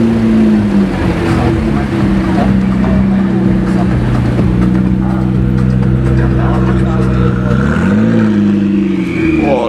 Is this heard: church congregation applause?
no